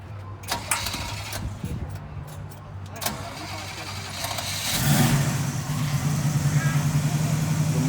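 A 327 V8 in an American muscle car at an outdoor car show starts and settles into a loud, throbbing idle. Scattered clicks and crowd noise come first, with people talking nearby.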